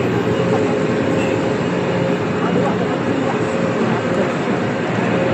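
Haramain high-speed train running at speed, a steady, loud, unbroken roar and rumble of wheels and rushing air heard from on board.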